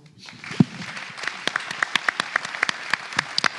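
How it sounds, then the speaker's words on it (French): A studio audience at a French debate programme greets a guest with sparse, scattered claps that pick up into a thin, uneven applause, individual hand claps standing out clearly and fairly close. "Je vous demande, mesdames, messieurs, d'applaudir Laurence de Nervaux."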